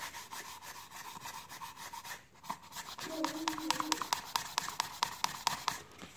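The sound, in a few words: sanding pad rubbing pencil sharpener part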